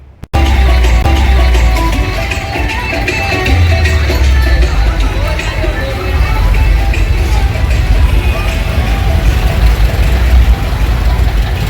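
Loud, continuous rumble of many heavy tractor engines idling and chugging close by during a tractor march, a dense mechanical roar that never lets up.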